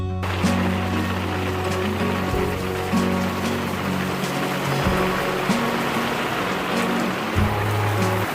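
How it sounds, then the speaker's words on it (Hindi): Heavy monsoon rain pours down steadily in a dense, continuous hiss outdoors, loud and unbroken, with a low droning hum running underneath and no voices. "ये देखिए कि तेज़ बारिश आ गई है, झमाझम बारिश हुई है।"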